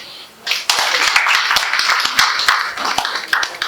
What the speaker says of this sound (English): I want you to even first of all give yourself a round of applause, please.